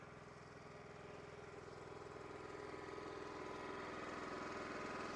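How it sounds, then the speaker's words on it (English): An All Wood commercial log splitter runs steadily, its engine giving a constant mid-pitched drone with a faint hum that grows slightly louder, heard alone without talk. "This is a fully capable commercial log splitter, and I'm gonna show you a little bit of it right now. We're gonna work it while I talk about it."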